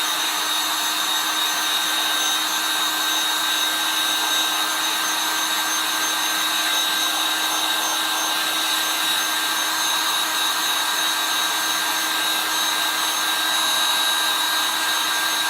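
Steady, loud whirring blast from a heat tool held close to dry chalk ink, continuous and even throughout with no voices.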